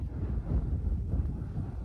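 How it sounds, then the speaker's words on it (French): Strong wind buffets an outdoor spot near German Gothic Line bunkers in the Borgo a Mozzano area of Italy, a steady, heavy low rumble of gusts blowing across the microphone with no break. "il y a un sacré vent ici"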